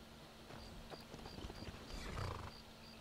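Horse hooves in Skyrim clip-clop in a steady, close, moderately loud gait over a constant low game-ambience hum, with a brief heavier scuffle near the end and no talking.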